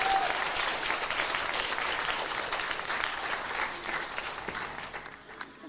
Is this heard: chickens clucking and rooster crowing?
no